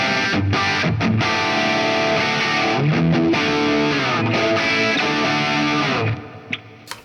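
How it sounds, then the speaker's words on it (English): A distorted electric guitar plays through an amp with reverb applied, sustained chords washing into a spacious tail before fading out with a few last plucks near the end, loud and alone. "So, reverb."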